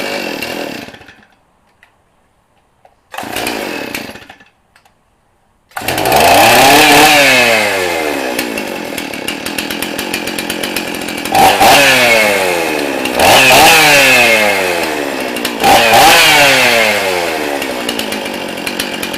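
A Stihl 034 Super chainsaw with a freshly rebuilt carburetor fires in two short sputtering bursts, then starts and runs loud and close, rising and falling through several throttle revs, alone without talk.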